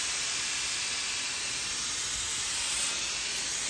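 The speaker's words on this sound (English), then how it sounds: "Amazing what you can do with vertical steaming too." A Sargent steam iron held vertically releases a continuous broad hiss of steam, fairly loud and steady, swelling slightly near the end, with no one talking.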